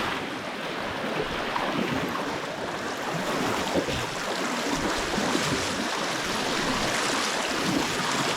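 A waterfall on the Pezo river roars as a steady, dense rush of falling water close by, broad and unbroken with faint wind buffeting, and no voices.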